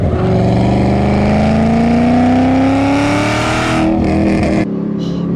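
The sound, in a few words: Camaro ZL1 supercharger whine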